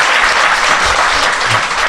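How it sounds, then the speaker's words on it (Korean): Audience applause at a Korean talk show event about the Sewol ferry sinking, a loud, dense wash of clapping from a crowd that runs steadily throughout with no talking. "박수 한번 부탁드립니다."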